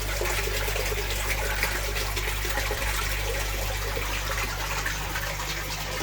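Water pours steadily and continuously into a fish tank during a water change, a loud, even rushing splash with a constant low hum beneath.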